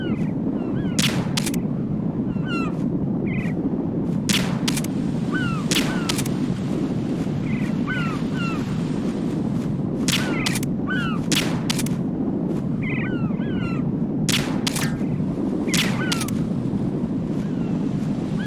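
Pistol shots in Metal Gear Solid 2: Sons of Liberty, sharp repeated reports in small clusters every second or so over a steady roaring wind and water ambience, loud and close.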